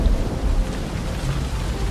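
Deep thunder rolling through a valley as a storm breaks, a continuous low rumble blended with the hiss of heavy rain throughout, fairly loud and with no voices.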